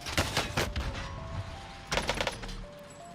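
AK47 fire in Call of Duty: Warzone comes as two rapid automatic bursts of sharp cracks, the first about a second long and the second after a short pause, with game sounds behind them.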